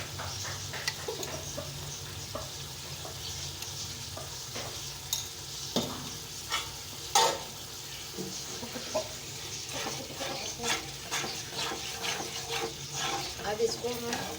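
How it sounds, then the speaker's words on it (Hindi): Masala and mashed tomatoes fry in a pan for a karela chana dal, a soft steady sizzle broken by repeated clinks and scrapes of stirring, faint and close with no voices. "मसाला भून रहा है और ये टमाटर भी इसमें मैश हो गए"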